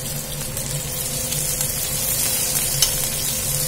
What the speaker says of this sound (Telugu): ఇప్పుడు పచ్చిమిర్చి ఉల్లిపాయ అయితే కొంచెం వేగాలి.